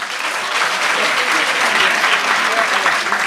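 Dense, steady audience applause fills a hall at a Free State primary school summit, many hands clapping together at close range for the full length without letting up.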